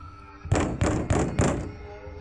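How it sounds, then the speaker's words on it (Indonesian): Four evenly spaced heavy knocks on a wooden house door, loud and close with a hollow thudding body, followed by a brief fading resonance. "Tiba-tiba terdengar ketukan pintu dari luar rumah."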